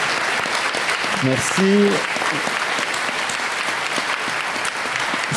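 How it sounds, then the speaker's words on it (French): A crowd at a college election debate applauds the candidates in a dense, sustained wash of clapping. A voice speaks briefly partway through. "Je pense qu'on peut applaudir l'ensemble des candidats."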